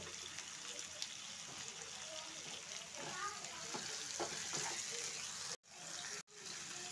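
Vegetables frying in a pan as tomatoes and salt go in for a mixed veg sabzi, a steady soft sizzle with stirring scrapes, dropping out briefly twice near the end.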